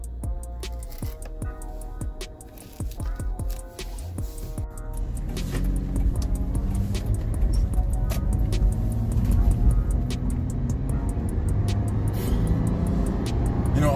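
A car with a Pedal Commander throttle controller set to sport level one idles with faint clicks, then its engine rises into a sustained, growing roar as it accelerates close to the microphone.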